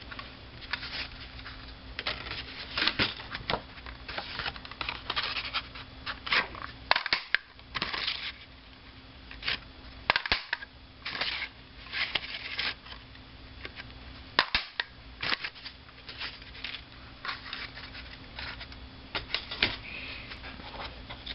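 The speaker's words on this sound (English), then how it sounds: "So let's start with cutting out 3 flowers." Card stock being cut into six-petal flowers with a die or punch, producing repeated sharp crunching snaps and clacks in an irregular rhythm over a steady background hum, close and loud throughout with no speech.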